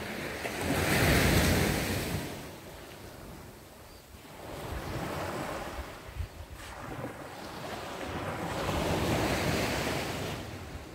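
Wind gusts and ocean surf on a beach along the Praia do Sissial trail in Governador Celso Ramos, Santa Catarina, with waves swelling and receding in two broad surges and steady wind buffeting the microphone, no voices.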